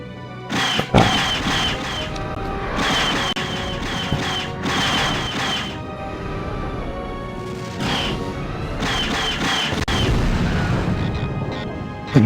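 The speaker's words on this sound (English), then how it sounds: "Almost makes me want to get up close to the gunfire." Bursts of loud, crackling gunfire and booming impacts in the video game Wing Commander IV, in several clusters separated by short lulls, with a final sharp bang at the end.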